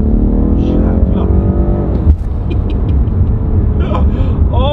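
A BMW M5 Competition F90 engine revs and pulls hard on a motorway, a loud, close, throaty roar with rising and falling harmonics and a brief shift, with a voice speaking over it.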